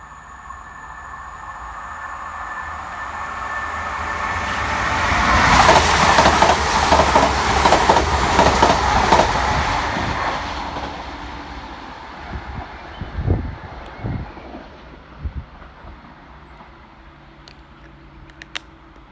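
A West Midlands Railway diesel multiple unit pair, 172333 and 172222, rolls through Blakedown station, its rumble swelling to a loud roar with clattering wheels, then fading away with a few distant clunks.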